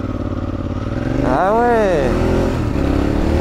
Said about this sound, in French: Une Harley Davidson, c'est pas un scooter, c'est une moto.